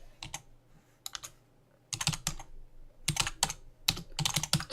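Bursts of computer keyboard typing while HTML code is entered, close and clear, coming in quick clustered runs separated by short pauses, with no talking.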